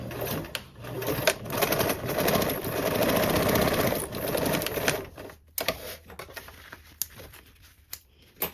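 A sewing machine bastes a seam with a 1/8 inch allowance, its needle chattering rapidly in a steady run for several seconds, then giving way to scattered clicks and short taps.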